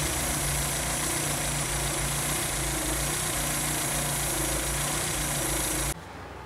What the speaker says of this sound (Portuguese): para quem gosta de ver, tá aí o motor trabalhando dependurado